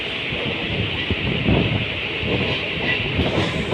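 A train runs with a steady, loud rumble and a faint rhythmic clatter throughout; no one speaks.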